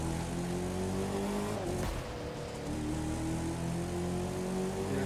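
A 2010 Chevrolet Camaro SS in the racing game The Crew 2 revs its engine with a loud, continuous drone. The pitch dips briefly and then climbs steadily again.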